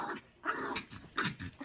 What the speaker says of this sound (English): Why is the dog so pissed?